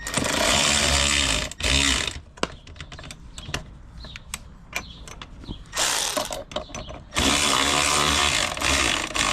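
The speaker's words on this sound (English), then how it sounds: "You're ready to tighten the screws." Screws being tightened on a lower door panel of a 2022 Can-Am Maverick X3 XRS Max Turbo RR with a power driver, bursts of loud whirring broken by sharp ratcheting clicks and clatter, close up.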